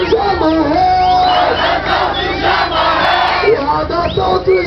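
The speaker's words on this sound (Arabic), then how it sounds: "وهذا صوت الجماهير" Marchers at a February 20 movement protest in Settat, Morocco chant loudly in unison, many voices rising and falling in a rhythmic slogan close by with a raw, shouted tone.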